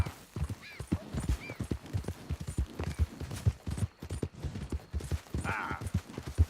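Horse hooves galloping in Red Dead Redemption 2, a quick steady clip-clop up close, with a brief whinny near the end.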